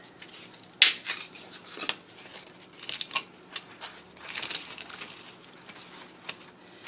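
Scissors cut craft material for a Valentine wreath, giving sharp close snips and rustling crinkles in an irregular series, quiet and with no talking.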